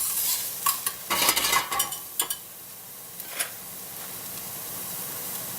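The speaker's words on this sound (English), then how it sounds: "Anytime you sauteing with high heat, don't ever walk away from it." Ginger sautés in a pan over high heat, a steady sizzle broken by bursts of scraping and stirring from a utensil, loud at first, then easing to a quieter hiss.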